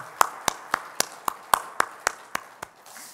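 In a church service, about ten sharp, evenly spaced claps ring out in a steady rhythm, a crisp slap roughly every quarter second with a slight room echo.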